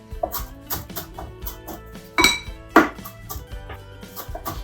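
A knife minces parsley on a butcher block countertop with quick, rhythmic taps, broken by two sharper metallic clinks in the middle.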